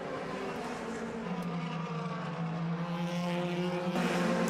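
DTM race cars at Zandvoort in 2014, a BMW leading two Audis, roar past with steady, loud engine drones that swell slightly as they hold close together through the run.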